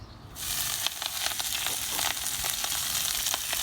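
Kale cooks in a pan over a hot wood fire, with a dense, continuous sizzle and scattered crackles starting suddenly and holding steady, close and fairly quiet.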